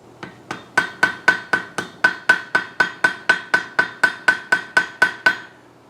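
Hammer blows ring on hot iron at welding heat while a pintle hinge is forged: about twenty loud, close, sharp strikes in a steady, quick rhythm, with no talking.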